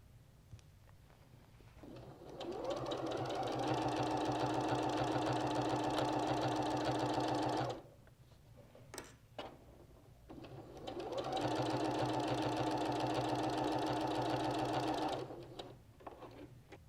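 A sewing machine stitching quilt blocks into a row, running in two long steady whirring bursts of about six seconds each, separated by a brief pause with small clicks and handling noises.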